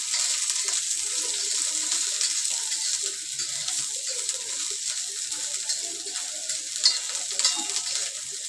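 Oil sizzling in a pan while stuffed brinjal is cooked, a steady close hiss with faint crackles and occasional light clicks of stirring.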